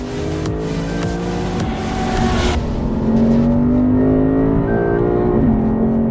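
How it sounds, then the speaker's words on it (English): A Lexus RC F with a titanium exhaust accelerates hard on a racetrack, its engine note rising steadily through the gears with a loud, aggressive tone, heard close up from inside the car without any talking. "Nice acceleration. It's got a little bit more of a aggressive tone to it. That might be the titanium exhaust."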